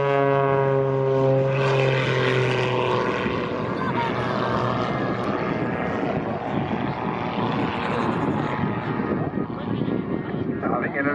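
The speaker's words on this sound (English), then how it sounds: "he winds up this aircraft into a scintillating and stunning series of maneuvers in the sky" A Pitts aerobatic aircraft's propeller engine drones steadily overhead at an airshow, a continuous loud buzz whose pitch rises as the plane opens its display, with a crowd and announcer faintly beneath.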